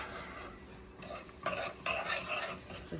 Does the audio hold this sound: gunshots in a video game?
no